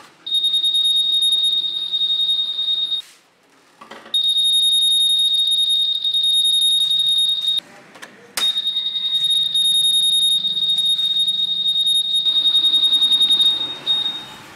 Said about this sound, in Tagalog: Kailangan mo lang pindutin yung gitnang button, makakarinig ka ng dalawang beep.